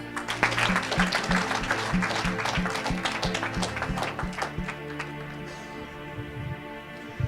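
Church congregation applauding in praise, a sustained wash of many hands clapping together with a rhythmic pulse and voices faint underneath, easing off toward the end.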